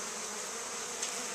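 Honey bees buzzing steadily around a swarm trap beside a busy five-frame nucleus hive, a close, dense, continuous hum with no talk.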